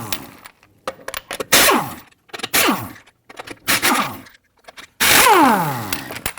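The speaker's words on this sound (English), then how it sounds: "loosen and remove your lug nuts" A 21mm socket loosening and spinning off lug nuts on a 2011-2015 Kia Sorento 2.4L, heard as several separate loud mechanical bursts that each trail off, with short quiet gaps between them.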